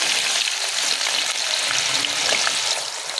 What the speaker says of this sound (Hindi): साथ ही हम आलू डाल देंगे फ्राई होने के लिए।